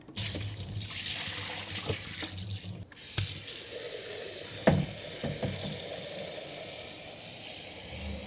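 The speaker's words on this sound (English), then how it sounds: "You just fill up the top and let it drain through." Water drains steadily through a gravity-fed Epic pitcher filter, making a constant soft trickle and gurgle with a few faint clicks. It is close and quiet, with no voices.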